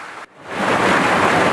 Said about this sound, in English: The rain just ruined our day.